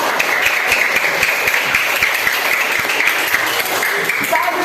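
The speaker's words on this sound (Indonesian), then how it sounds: "Tepuk tangan untuk kelompoknya Mbak Farisa dan Mbak Zivana" A classroom of pupils claps for a student group after their presentation, dense steady applause filling the whole stretch at close range.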